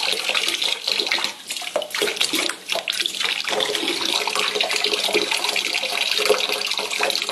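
Water flows out at a steady, consistent rate in a loud, continuous gush that stays even throughout, close by, with no talking.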